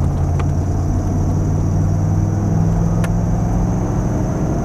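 A 1993 Chevy Van G20 Starcraft engine revs hard at high RPM, heard from inside the cabin as a loud, steady, droning roar that holds nearly constant throughout.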